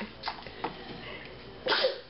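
A child's sneeze bursts out sharply near the end of a short stretch indoors at a birthday present opening, preceded by a couple of smaller breathy sounds.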